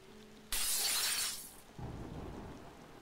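Glass shatters in the horror game Efuremei II, a sudden loud bright crash that bursts in and rings for about a second before giving way to a steady hiss of rain.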